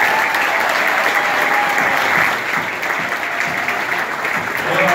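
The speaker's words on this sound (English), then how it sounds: "can we get another round of applause for all the comedians?" Sustained applause from a crowd at a comedy event, dense clapping that holds steady throughout without letting up.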